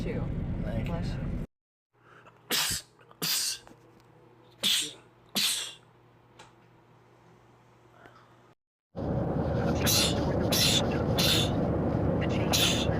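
Four sharp, loud sneezes come in quick succession, spaced about a second apart and set in near silence. Louder speech and noise fill the stretches before and after them.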